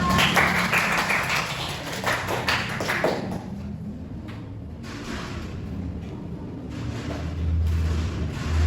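Schoolchildren in a classroom clap for classmates who gave a correct answer, a brisk burst of hand claps and taps for about three seconds that fades into quieter room noise and scattered thumps.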